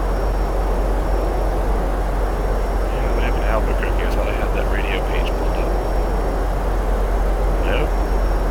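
A steady, loud broadband roar of a Boeing 767F freighter's jet engines in X-Plane 11 with the BSS sound pack, continuous throughout, with someone talking over it.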